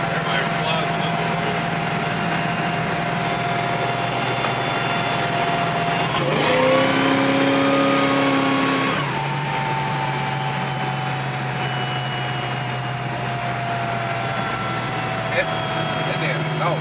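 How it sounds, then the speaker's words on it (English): A 1971 Chevelle convertible with an LT4 engine swap and full 3-inch stainless steel exhaust cruises at highway speed; a steady engine and road drone, with a louder, rising rev burst in the middle, and voices over it. "That damn exhaust, man."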